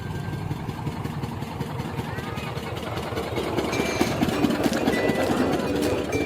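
A diesel tractor drives from a village toward the fields, its engine a steady, rumbling drone that grows slightly louder partway through.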